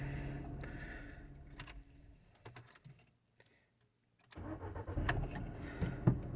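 A Skoda car engine starting after a sensor replacement: keys jangle and the ignition is turned, a short quiet pause, then the engine cranks and catches into a steady close running rumble, with no talk.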